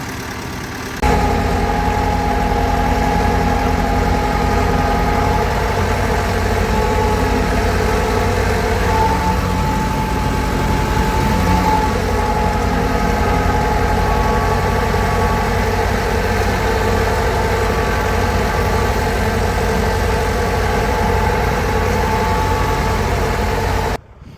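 A vehicle engine runs at a steady, loud drone for over twenty seconds while driving back to a field after a pumpkin-field cultivator's rollers are removed, cutting off abruptly at the end.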